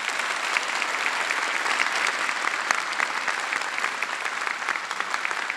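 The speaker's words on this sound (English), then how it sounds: "if we could give them a round of applause" A conference audience gives a steady, full round of applause for the speakers, dense clapping that holds at an even level throughout without any talk over it.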